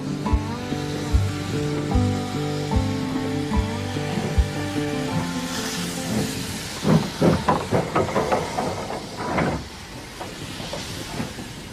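Hissing steam and rhythmic chuffing from a steam locomotive build up and rush past, following a stretch of droning tones.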